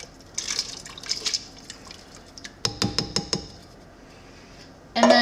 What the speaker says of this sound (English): The next thing I'm gonna add is a can of drained corn.